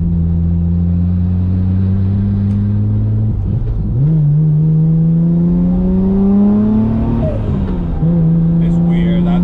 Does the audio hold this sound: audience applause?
no